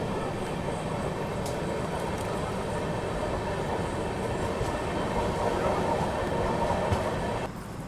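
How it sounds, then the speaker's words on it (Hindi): The Paschim Express passenger train rolls toward New Delhi, heard from inside as a steady, dense rumble with faint clatter throughout, easing slightly at the very end. "अभी हमारी ट्रेन नई दिल्ली की ओर बढ़ रही है"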